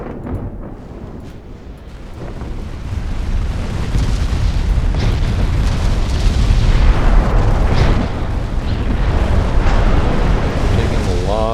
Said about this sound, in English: Taking a lot of minor gun hits here.